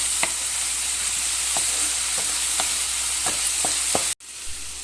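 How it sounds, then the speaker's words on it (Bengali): Ginger-garlic spice paste frying in a pan for chital fish muitha, a steady bright sizzle broken by several light scrapes of a spatula, then a brief cutoff near the end. "মশলাটাকে ভালো করে ফ্রাই করে নিচ্ছি।"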